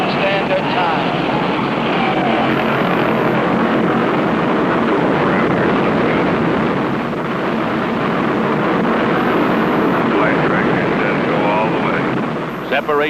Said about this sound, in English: All engines are running. We have liftoff.